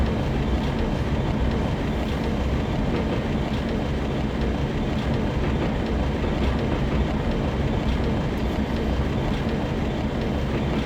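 A Sacramento Northern train runs steadily in Train Simulator 2017, giving a constant rolling rumble with a faint clickety-clack of wheels on rail and no speech.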